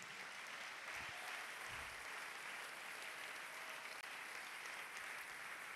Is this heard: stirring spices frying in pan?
no